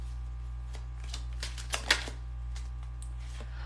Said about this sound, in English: When I was shuffling this top deck